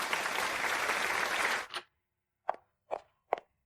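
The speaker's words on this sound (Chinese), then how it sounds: "让我们用热烈的掌声，有请霍总和许小姐上台。" An animated drama audience breaks into dense, loud applause that stops abruptly, followed by a few sparse, distinct knocks or footsteps in the silence.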